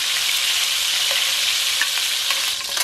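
Meatballs fry in a pan, making a loud, dense, continuous sizzle and crackle with a few small pops, close up and without voices.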